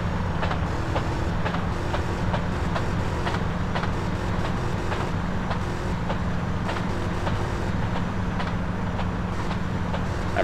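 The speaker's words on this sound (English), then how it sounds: "Come on, how long do we have to follow this train?" A train runs in the game GTA San Andreas with a continuous rumbling drone and a faint rhythmic clatter, steady and fairly loud throughout, with no talking.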